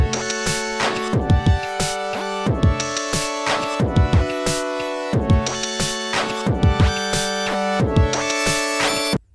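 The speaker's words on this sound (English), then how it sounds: "You map the LFO to the octave of this synth" A synth in Ableton Live with an LFO mapped to its octave, so the pitch jumps up and down between octaves in a choppy, glitchy loop over a steady beat. It plays loud and up front, with no talking.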